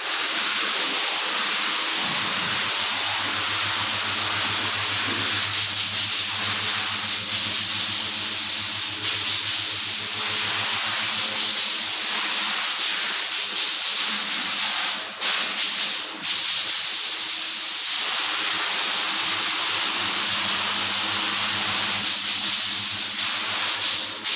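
A spray gun paints car tailgate parts in a body shop: a loud, steady hiss of compressed air and paint mist holds for the whole stretch, with brief dips where the trigger eases off.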